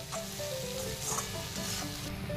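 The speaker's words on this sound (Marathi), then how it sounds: "भाजी फ्राय झाल्यानंतर मी सर्व मसाले टाकून घेतलेत" Vegetables sizzle steadily in a hot pan with added spices, a close, continuous frying hiss with occasional soft stirring scrapes.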